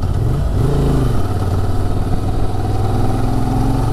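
Honda 750 Transalp motorcycle engine running steadily at low revs in fifth gear, a loud, close, continuous rumble with a smooth even pulse and no talk.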